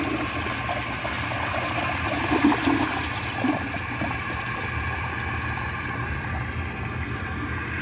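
A 1976 Kilgore 108 toilet with all-original parts flushes in a steady, continuous rush of water that holds at an even level throughout, with a slight surge partway through.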